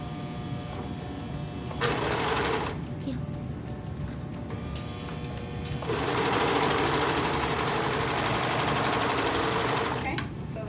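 A serger sewing machine stitches fabric in close, loud, steady buzzing bursts, one short run and then a longer one, with quiet gaps between where people talk.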